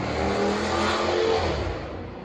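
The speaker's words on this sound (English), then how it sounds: "Rev it up, bud, rev it up." A car engine revs loudly and close by, a sustained throaty roar that swells and eases slightly over a couple of seconds with no one talking.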